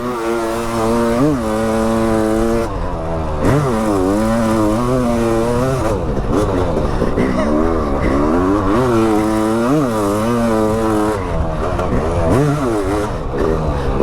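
A 500cc motocross bike tears through a hot lap, its engine loud and close, revving hard and falling away again and again through repeated gear changes without a break.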